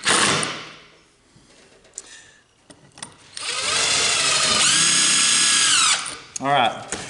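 A power drill drives screws into wooden shelf brackets in a workshop. There are a few short bursts first, then a steady, rising whine of about three seconds that ends in a brief final burst.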